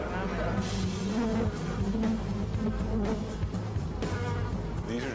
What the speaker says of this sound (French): les gardiennes passent à l'attaque. Elles se précipitent hors de la ruche